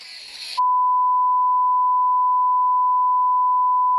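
A single long, steady electronic beep from the Sonic Adventure 2 Battle video game sounds loud and unbroken for several seconds, following a short burst of noisy game audio.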